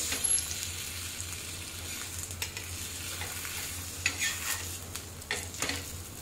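A potato, cheese and paneer frankie roasts in a pan, giving a steady low sizzle with occasional soft scraping taps, close and even throughout.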